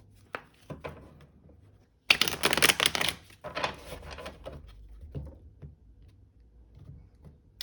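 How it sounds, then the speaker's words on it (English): A few soft taps lead into a burst of rapid tarot card shuffling, followed by quieter fluttering and scattered clicks as the deck settles. "we'll do one last shuffle"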